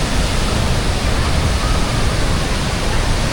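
Ban Gioc waterfalls in northern Vietnam roar loudly and without pause, a dense, broad wash of crashing water with mist-laden power, steady from start to finish.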